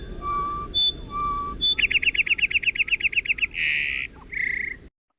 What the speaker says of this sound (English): So that's the song of the song sparrow